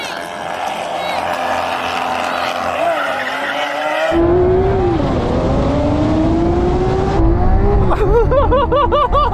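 Lamborghini supercars, Aventador variants including the Ultimae, SVJ, SV and S, roar hard off the line in a straight-line drag race, engine pitch climbing through gear changes, loud and close, with people talking over it.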